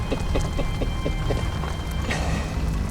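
Heavy rain drums steadily on a tent at night in the African wild, with scattered drop impacts over a dense wash of noise that stays loud throughout and shows no sign of letting up.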